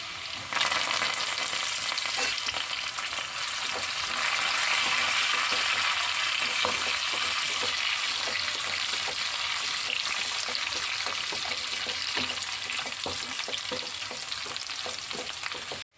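Crushed garlic and curry leaves fry in hot oil for a curry with white beans and mango, a steady loud sizzle with crackling pops running throughout, no voices.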